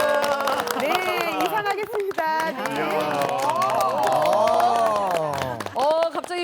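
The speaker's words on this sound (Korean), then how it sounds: "활기차게 신나게 박수 치면서 시작하도록 하겠습니다" A studio audience claps along at a lively year-end party on a morning TV talk show, the clapping running under voices and talk throughout.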